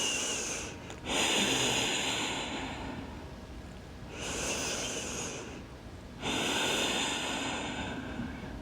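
Slow, deep breathing in and out while holding a yoga spinal twist during a strong flow session: three loud, breathy swells separated by quieter pauses, close and clear with no talking.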